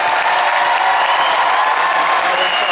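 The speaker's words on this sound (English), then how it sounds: "faites un tonnerre d'applaudissements" A conference audience at Paris Manga gives Elijah Wood loud, dense applause that fills the room, with a few cheers mixed in.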